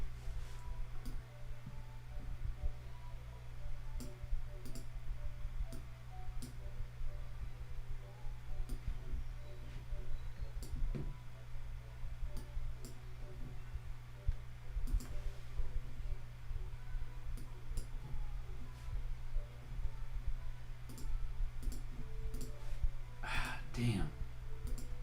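A computer mouse clicks back and forth while an animation is being edited, giving sparse, faint, irregular single clicks over a steady low hum throughout.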